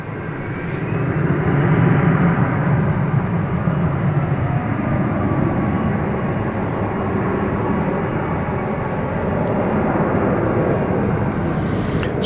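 Qantas Boeing 787-9 Dreamliner departing at night at DFW Airport, a loud, sustained broadband jet engine roar that holds steady throughout, with a faint higher whine above it.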